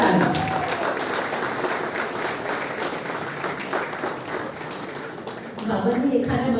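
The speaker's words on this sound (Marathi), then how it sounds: "जोरदार टाळ्या" Applause from the audience at a 75th-birthday felicitation program as the honoree is called to the stage, a steady, dense roar of many hands that lasts several seconds, with voices underneath, and swells again near the end.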